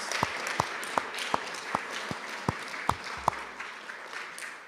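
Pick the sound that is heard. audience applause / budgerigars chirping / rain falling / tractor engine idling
audience applause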